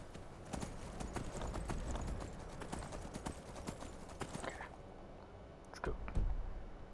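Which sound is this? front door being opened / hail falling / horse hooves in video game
horse hooves in video game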